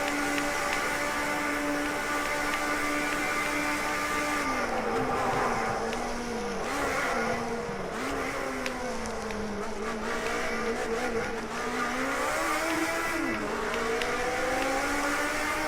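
A Mercedes race car engine screams at full revs on a track, a loud sustained howl whose pitch dips and climbs repeatedly as the driver works through gears and corners, with no voices over it.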